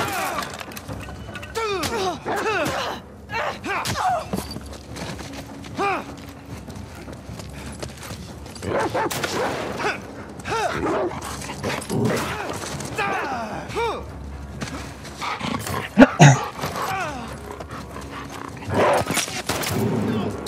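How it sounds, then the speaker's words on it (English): Dogs bark and snarl in The Last of Us Part II amid scuffling, sharp cracks and an occasional loud impact, with a person talking over the action. "I hate it when this game makes me kill these fucking dogs"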